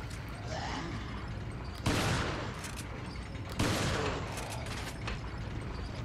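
Gunfire in Resident Evil 4 on PS4 at the Giant Gear Tower, with two sharp, loud bursts rising over a steady mechanical background roar.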